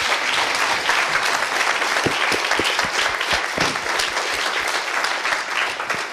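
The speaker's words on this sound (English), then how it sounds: "You can applaud now." Sustained applause from a conference audience at the close of a session, loud and dense throughout with sharper individual claps standing out near the middle.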